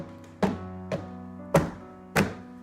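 A piano key struck with a dull, pitchless thud, repeated four times at uneven intervals, each a short close attack over a faint sustained tone.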